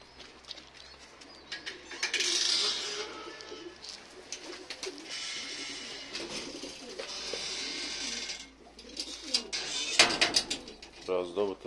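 Pigeons coo softly in a coop while being fed, with low, throaty calls and occasional chirps and wing flutters. Someone talks intermittently over the birds.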